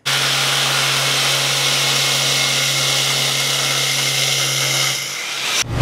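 A power drill whirs steadily into a TV unit with a loud, sustained motor hum for about five seconds, then winds down and stops; nobody speaks.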